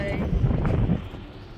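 Strong, cold wind buffets a handheld microphone on a seaside boulevard in Baku, Azerbaijan, a steady low rumble that swells and gusts throughout, with no one speaking.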